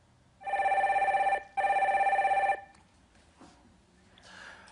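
A telephone rings twice in two long, even bursts separated by a brief gap, loud and clear, as a call is being connected, followed by quieter faint sounds.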